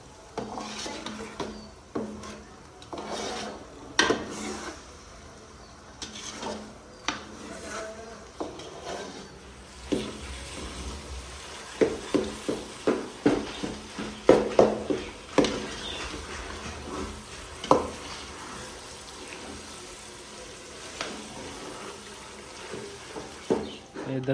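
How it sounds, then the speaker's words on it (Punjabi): Food is stirred and mixed in a pan, with a spoon scraping and clinking in soft repeated strokes and a faint sizzle beneath, close but quiet. "ਚੰਗੀ ਤਰ੍ਹਾਂ ਇਹਨੂੰ ਮਿਕਸ ਕਰਨਗੇ।"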